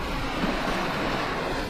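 A mountain river in Chechnya rushing past close by, a dense broadband roar of flowing water with some wind buffeting, continuous and loud with no voices.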